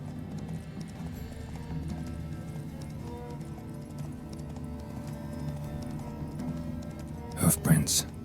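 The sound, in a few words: horse Roach neighing and hooves, The Witcher 3 video game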